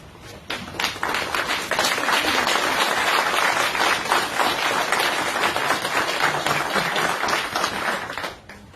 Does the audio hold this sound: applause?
yes